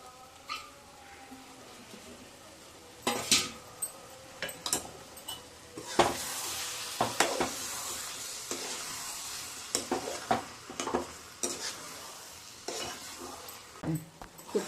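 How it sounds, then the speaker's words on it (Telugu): Coriander being stirred into gongura egg curry in a pan makes irregular scraping and clinking strokes over a soft background sizzle, close by and moderately loud, picking up after a quieter start. "కొత్తిమీర మిక్స్ అయ్యేలాగంతా కలబెట్టుకుందామండి"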